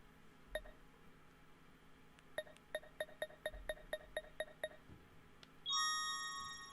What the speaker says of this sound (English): heard the clinking and clambering of a very unique door chime as we stepped across the threshold